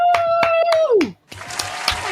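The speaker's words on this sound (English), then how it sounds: "I'll just clap." A few sharp hand claps from one person on a live internet radio show, mixed with a sustained, then falling vocal cheer, before giving way to noisy background chatter.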